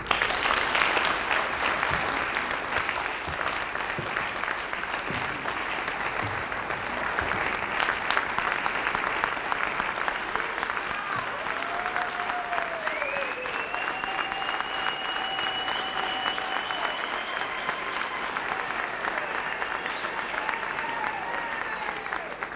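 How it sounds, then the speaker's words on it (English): Long, sustained applause from a large conference audience at a parks congress, a continuous dense clapping that stays even for over twenty seconds, with faint voices and whistle-like tones rising within it. "Ladies and gentlemen, I want you to acknowledge him with a round of applause"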